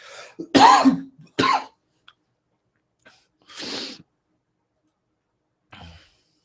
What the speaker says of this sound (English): As soon as I clear my throat, give me 1 second.